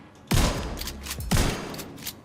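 Two loud weapon bursts from The Division 2, each with a sharp onset followed by a sustained rattling roar, one near 0.3 s and another just past 1.3 s, close and prominent with no talking.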